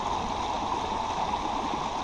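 A stream running high after wet weather flows in a steady, dense rush of water, close and loud, with no break or voices over it.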